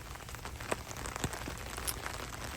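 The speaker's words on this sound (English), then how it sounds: "our friend the rain has decided to come back too" Light rain falls steadily on an outdoor golf course, a faint continuous patter with a few sharper drops ticking at close range and no voices.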